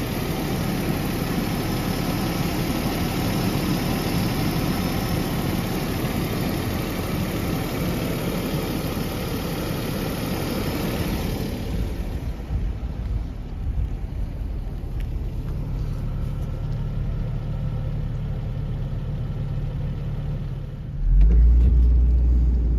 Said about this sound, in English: take the Jaguar here for a spin down the block